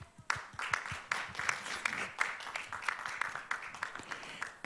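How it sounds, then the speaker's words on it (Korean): An audience at a biotech conference opening ceremony applauds steadily, many hands clapping in a dense, continuous patter with a few sharper claps standing out. "여러분 엑셀세라퓨틱스에 다시 한번 큰 박수 부탁드립니다."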